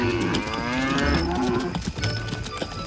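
Cows mooing loudly, several overlapping drawn-out lowing calls close by, with no talking.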